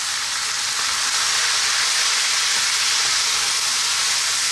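Sotanghon pork noodle soup being stirred in a cooking pot: a steady, close bubbling hiss with no talking.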